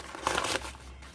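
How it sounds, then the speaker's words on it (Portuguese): A sheet of white paper is crumpled up by hand, a brief burst of close crinkling that swells and then tapers into quieter rustling. "o primeiro passo é amassar a folha branca"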